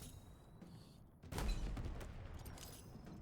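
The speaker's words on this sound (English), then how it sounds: "And I throw 500 too many grenades at this point." Grenade blasts in Halo Infinite gameplay: a sudden deep boom around the middle rolls into a sustained rumbling, crackling aftermath, loud and close, following a quieter stretch of game ambience.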